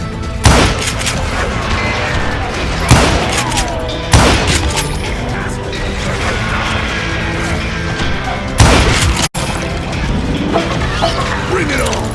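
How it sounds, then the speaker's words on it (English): Gunfire in the Western shooter Call of Juarez: Gunslinger, with several loud, sharp shots spaced a few seconds apart over a dense, steady bed of game noise and effects. "Just kill him for Christ's sake! Shoot that asshole!"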